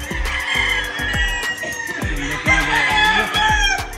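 Roosters tethered at a cockfighting ring in Norzagaray, Bulacan crow and cluck close by, with repeated sharp calls and rhythmic knocking over a busy background.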